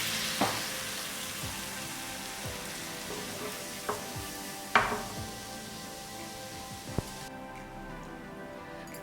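Sugar syrup boils in a pan, sizzling and bubbling steadily, with occasional sharp clicks and taps of a utensil against the pot.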